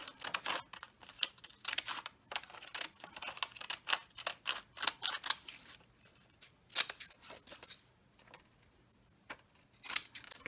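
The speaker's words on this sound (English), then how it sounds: "I might use another one of my fancy crafting scissors here, the scrapbooking scissors." Scissors snip through paper in quick, irregular runs of crisp cuts, close and fairly quiet, with brief pauses between bursts and no speech.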